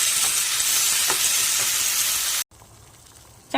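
A pan of mushroom roast with curry leaves sizzles and hisses steadily while being stirred, then the frying noise cuts off abruptly, leaving quiet kitchen sounds.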